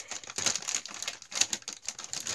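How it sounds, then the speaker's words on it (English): A cat playing inside a crinkling plastic bag, giving rapid, irregular rustles and crackles in close succession, close and fairly loud, with no voices. "Here is Drake playing inside the plastic bag"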